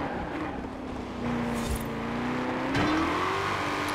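Chevrolet Camaro Z28 engine in the racing game Forza Horizon 4, revving up with a rising engine tone that climbs and holds, fairly loud with no talk over it.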